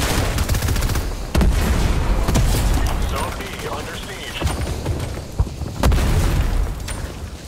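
Grenade blasts and gunfire in Fortnite playing a Call of Duty style mode, with loud booms and rapid shots layered over a constant din of battle, punctuated by sharp bursts.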